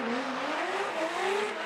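A drift car at a Formula Drift pro competition revving hard as it spins out, with a loud, continuous engine roar whose pitch climbs gradually, heard close and without any voices.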